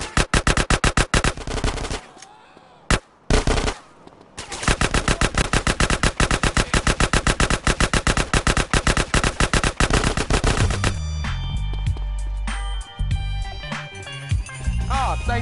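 Rapid automatic gunfire from the game GTA San Andreas on PS4 rattles out in loud, dense bursts with a few short gaps. Later it thins into heavier, scattered blasts with a rumbling low end.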